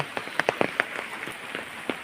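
Heavy rain falls outside, a dense hissing wash broken by sharp, scattered drips and splats striking a nearby surface.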